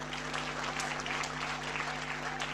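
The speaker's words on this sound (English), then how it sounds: "Applaudissez pour nous." An audience applauds steadily, many hands clapping in a continuous patter, somewhat distant, with a low hum underneath.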